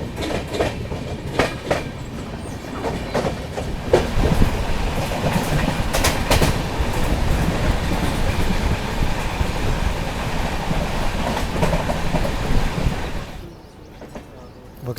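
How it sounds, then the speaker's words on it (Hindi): Jammu Mail passenger train rolling out from Vijaypur toward Jammu, a steady loud rumble of wheels on rails with rhythmic clicks over joints throughout, easing to a quieter hum near the end. "चलिए निकल गई है ट्रेन अपनी विजयपुर जम्मू से।"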